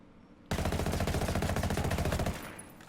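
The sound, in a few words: FAL rifle shot groups in video game Ghost Recon Wildlands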